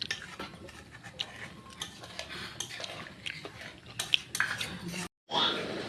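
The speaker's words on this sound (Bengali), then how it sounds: "নেড়ে দিচ্ছি।" Mutton curry is stirred in a pot after water is poured in. A spoon scrapes and clinks against the metal in irregular taps, with a brief silence near the end, while a person talks over it.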